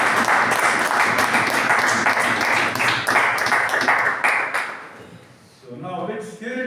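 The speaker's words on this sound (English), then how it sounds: "Let's give a round of applause." Members at a Toastmasters meeting give a round of applause for Toastmaster Apoorva, a lively burst of many hands clapping that fades out after about five seconds before a voice starts talking.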